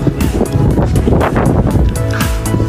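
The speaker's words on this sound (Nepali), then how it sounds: "हावा नि धेरै लागिरहेको छ।" Strong wind in Jumla, Nepal, roars loud and close, buffeting the microphone with a continuous heavy rumble that surges in gusts throughout.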